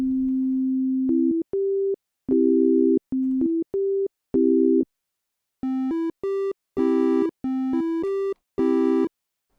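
A synthesizer plays a short chord sequence demonstrating oscillator waveforms, first as pure smooth tones, then as buzzy, harmonically rich tones, with clean stepped notes and short gaps between them.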